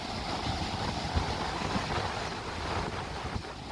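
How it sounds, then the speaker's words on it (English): Rough ocean surf during Hurricane Ida churns and rumbles beneath heavy wind buffeting on the microphone, a continuous, blustery roar with small gusty swells. "There's the ocean again. The angry, angry ocean."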